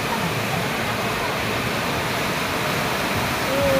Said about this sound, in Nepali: बवाल छ खोला